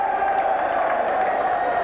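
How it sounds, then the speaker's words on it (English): Rugby league crowd at a St Helens versus Trafford Lancashire Cup match, a loud continuous mix of jeers and applause from the stands, steady and unbroken for the whole moment. "jeers as the popular side applaud that the referee has actually seen a knock on"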